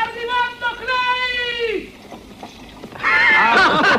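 Horse in a 1966 western film, loud neighs and whinnies in two long drawn-out calls, then a rougher burst of whinnying as hooves and background commotion sound close by.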